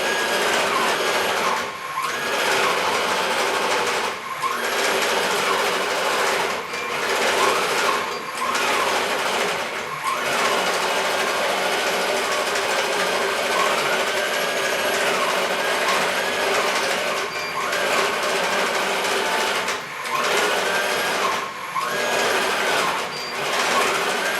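DIY CNC longarm quilting machine stitching, a continuous close mechanical whirring with rapid rhythmic needle clatter and regular slight dips as it moves, steady and loud throughout.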